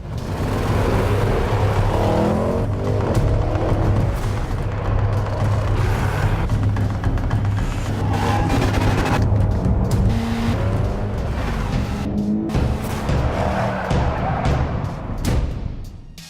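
Racing driver Ho Pin Tung pushes a car fast along a mountain road with 99 hairpin turns; a loud, steady engine roar holds throughout with rising and falling revs and brief tyre squeals.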